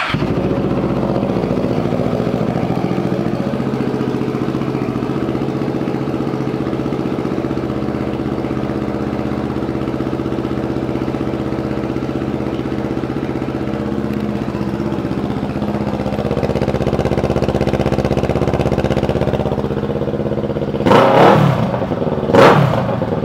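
A 2018 Kawasaki Z650 motorcycle engine runs at a steady idle, a close, even hum that lifts slightly in pitch near the end before a couple of brief knocks.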